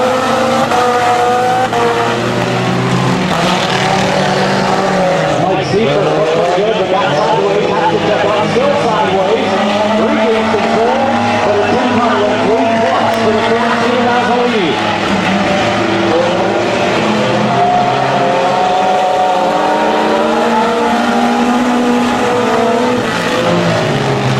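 Four-cylinder race cars roar around a speedway oval at the green flag, engines droning loudly and continuously with rising and falling pitch as they pass, while an announcer talks over the racket.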